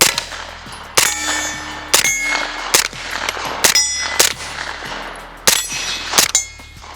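An MP5 fitted with an AR-style trigger fires a string of loud, sharp single shots at roughly even intervals, each with a metallic ringing tail, close up and without talk.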